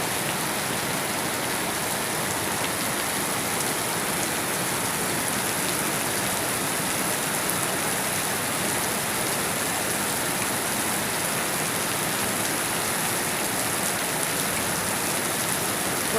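Morning rain pours steadily on a rural farm, a dense, even hiss of drops on surfaces continuing without pause at constant loudness, with no voices.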